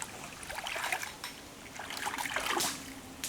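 A charred wooden stick, still hot from burning, being rinsed in water: quiet trickling and sloshing splashes, with soft swishing bursts that swell and fade twice, close and faint.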